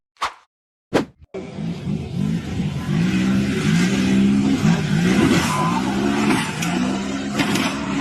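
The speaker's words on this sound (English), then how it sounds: "The silver off-road vehicle accelerated hard up a tall dirt mound" A silver off-road vehicle climbs hard up a tall dirt mound at a 4x4 hill-climb event. Two sharp knocks come first, then a loud, sustained engine roar that wavers and rises in pitch as it strains under throttle.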